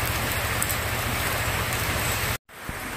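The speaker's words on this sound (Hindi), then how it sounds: "रात भर से ही बहुत ज़्यादा बारिश हो रहा है" Heavy rain from Cyclone Mocha pours steadily at Campbell Bay on Great Nicobar, a dense, continuous hiss close by that cuts out briefly near the end and then resumes more faintly.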